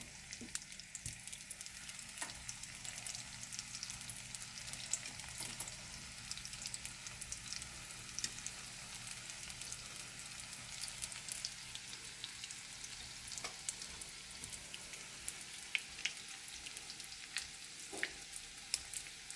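Cheese-filled Moroccan briouats frying in hot oil, giving a dense, even sizzle and crackle that holds steady and close throughout, with no voices.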